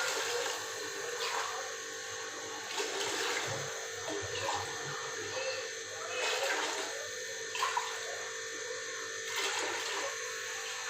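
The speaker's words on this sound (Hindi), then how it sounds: "तो इसमें हमने 8 गिलास पानी के डालेंगे" Water pours steadily into a pot of rice during home cooking, a continuous close rushing and splashing flow lasting throughout with small fluctuations.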